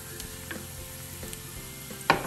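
Onions soften in oil in a frying pan, a quiet steady sizzle with a few light utensil clinks and one sharper stir near the end.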